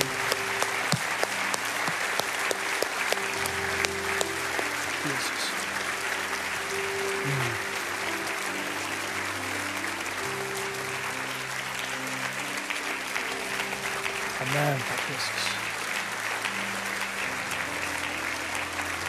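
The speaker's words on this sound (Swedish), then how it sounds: "Så ge mig en applåd allihopa." A congregation at a live Swedish church gathering applauds continuously, a dense, steady wash of clapping with music or tones underneath and occasional louder bursts, lasting throughout.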